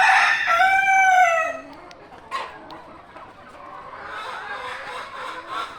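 A rooster crows loudly and close at the start on a desi chicken farm, followed by softer clucks and distant farm chatter from other chickens.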